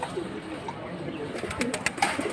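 Double-border Lal Patti pigeons give short, close cooing calls, a soft low burbling that swells slightly toward the end, with faint background voices.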